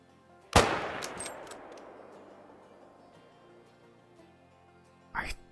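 A Mosin rifle fires once at a deer while hunting in the video game Call of the Wild, a loud sharp shot followed by a long fading echo, with a second brief burst near the end.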